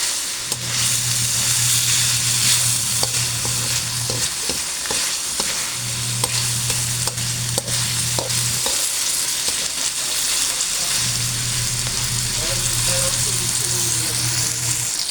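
Pork belly stir-fries in a pan, browning as its fat renders, a constant loud sizzle broken by repeated scraping and stirring strokes, with a low hum coming and going underneath.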